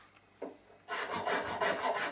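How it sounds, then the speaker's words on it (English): A Japanese woodcarver's curved file rasps across the end grain of a guitar heel in quick, even back-and-forth strokes, close and dry, after a brief soft touch. "these Japanese woodcarvers files are really good"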